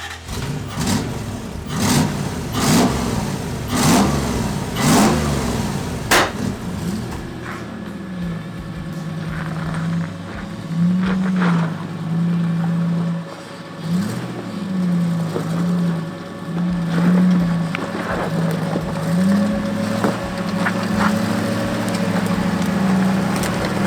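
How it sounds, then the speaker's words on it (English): Toyota 1UZ V8 swapped into a Toyota, running and revving up in short bursts at first with loud clicks, then settling into a steady idle with occasional throttle blips, close and alone. "I finally got it so that it can idle and it'll rev up."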